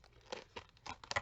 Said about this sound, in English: I'm going to move this box out of the way